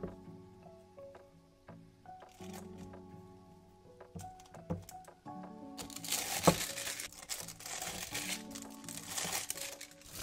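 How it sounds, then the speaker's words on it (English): Disposable plastic pastry bag crinkling and rustling as its tip is snipped and it is filled with meringue, soft scattered handling sounds at first, then a denser, louder stretch of plastic crackle. "I snip the tip of a disposable pastry bag to my desired size, then I scoop the meringue I'm using for the small details into the bag."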